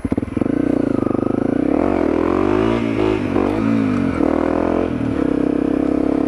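A Honda CRF250L dual sport motorcycle with a 13-tooth front sprocket, ridden and revved hard, its engine note rising and falling loudly close by with some clatter.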